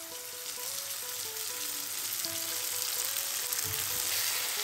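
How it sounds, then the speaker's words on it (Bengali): Chopped onion fries in hot oil with a constant, bright, crackling sizzle held close and loud for the whole stretch, while a soft tonal melody runs faintly underneath. "তেল গরম হয়ে গেছে, পেঁয়াজ কুচি দেব।"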